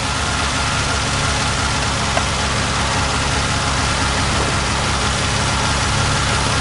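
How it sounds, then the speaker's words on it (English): A Fiat car engine idles with the choke fully closed, a close, constant low rumble with an even mechanical thrum and no change in pace, heard alone for the whole stretch. "It appears to be working as an engine should with the choke closed."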